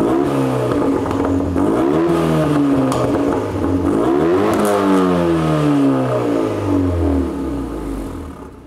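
A Renault Megane RS Cup engine fires up and revs hard with several rising and falling sweeps, loud and close throughout with no talking.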